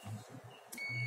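A multimeter set to buzzer continuity mode, used to check a motorcycle fuel-injection ignition coil, gives a steady high-pitched beep that starts partway through and holds to the end over a low background hum.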